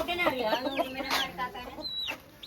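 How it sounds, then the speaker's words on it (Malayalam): Chickens cluck and squawk close by in a busy flock at a chicken farm, with sharp calls overlapping and a brief high chirp near the end. "നാസറാക്കാന്റെ കോഴി വളർത്തൽ കേന്ദ്രമാണ്"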